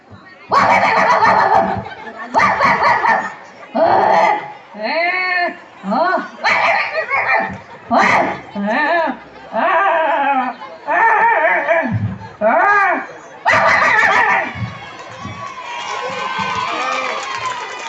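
Several people vocally imitate two dogs fighting, a close, loud run of yelps, growls and snarling barks that overlap, ending in a burst of crowd cheering, at a Pongal celebration.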